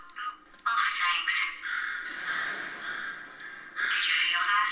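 A bird in the video game Portal 2 gives harsh, raspy cawing calls, loud and close, repeated in several bursts.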